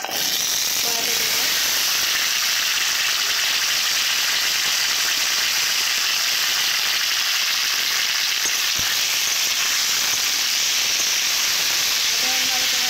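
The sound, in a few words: potato and taro frying in a kadai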